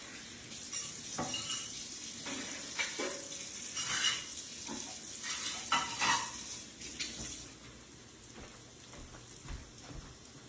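Salmon patties fry in a pan with a steady crackling sizzle, while a spatula scrapes and taps the pan now and then, loudest midway before settling back to a quieter sizzle, with no talking.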